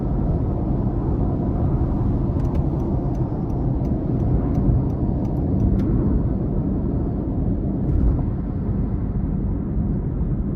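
Cabin drone of a 2023 Honda HR-V with the 2.0 non-turbo four-cylinder cruising on an interstate, a steady broadband road and engine rumble with faint ticks, no speech.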